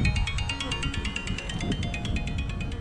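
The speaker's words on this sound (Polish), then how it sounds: "telefon dzwoni." A phone rings in a steady repeating electronic pattern beside an open beehive, its pulses sitting over a constant low buzzing hum, with no talk.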